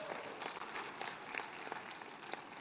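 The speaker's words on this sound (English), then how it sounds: "Let's give him a round of applause." Audience applause at a business conference forum as a bank executive is introduced: steady, moderately quiet clapping from a crowd, evenly sustained for a few seconds.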